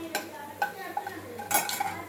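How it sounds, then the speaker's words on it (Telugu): Peanuts being fried in a little oil in a pan while preparing stuffed eggplant curry, heard as a few distinct scraping and clinking stirs of a utensil against the pan with a faint sizzle underneath, no talk. "పల్లీలు అయితే వేయించుకుంటున్నాను కొంచెం ఆయిల్లో."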